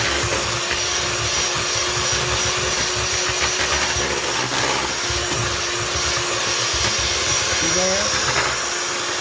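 An electric hand mixer whirs steadily, beating hot potatoes with warm milk in a kitchen for crock pot chops and gravy, a continuous motor drone running the whole time beneath brief talk.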